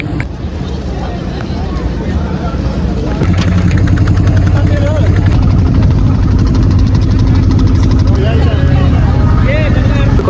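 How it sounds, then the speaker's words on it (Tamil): Motorboat engine on a boat ride along the Ganges at Varanasi, with a loud, steady droning hum that grows louder partway through and continues with chatter and background voices. "இப்போ வந்துட்டு போட் ரைடு போகிறோம்"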